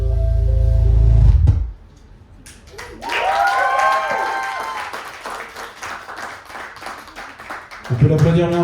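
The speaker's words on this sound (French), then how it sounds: "On peut l'applaudir bien fort" At a show rehearsal, an audience applauds in a short burst of clapping and cheering after a song ends, while a host speaks over it and music fades out beforehand.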